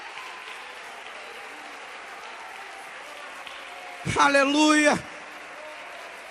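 A church congregation applauds steadily through the whole stretch, a dense, even wash of clapping, while one loud voice briefly shouts an exclamation near the end.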